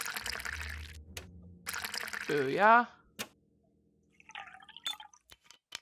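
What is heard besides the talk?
water pouring in a video game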